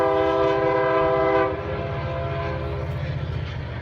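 A passing freight train by a train station rumbles steadily at night, with a sustained horn blast for the first second and a half, then continuing low rolling rumble.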